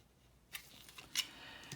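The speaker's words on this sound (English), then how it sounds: "we're adding some pressure and we're cutting into the plastic" A blade scoring a panel line into plastic along a ruler, heard as a few short, faint scraping strokes against a quiet background.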